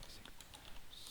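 Computer keyboard keys are pressed in a short burst of light clicks and taps, faint and close, with no voices.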